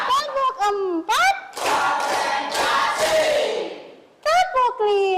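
A class of children clap together in a counting game: a short burst of about four loud group claps mixed with children shouting. Someone speaks before and after.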